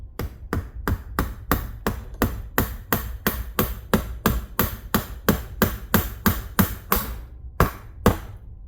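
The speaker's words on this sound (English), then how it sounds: "Little hammer." Steady, rapid hammer taps, about two per second, sharp and close, with a brief pause near the end before a few more strikes.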